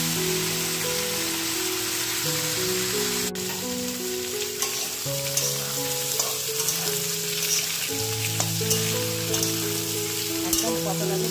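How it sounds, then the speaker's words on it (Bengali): Pointed gourd and potato fry in a pan with a constant, close crackling sizzle, while soft background music plays underneath. "এবার আমি এই পটল আলুটা 4-5 মিনিট ভেজে নিয়ে আসছি"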